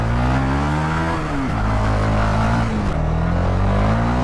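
A Honda Twister 300F motorcycle accelerates hard, its engine note rising through two quick gear changes with brief dips between, loud and close, with no talk over it.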